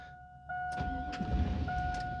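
A Chevy truck engine cranks but fails to start, a rough low churning grind lasting under two seconds under a steady two-tone dash chime, close and fairly quiet.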